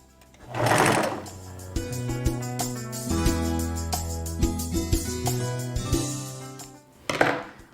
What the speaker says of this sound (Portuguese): baixa o pezinho da máquina e passo uma costura reta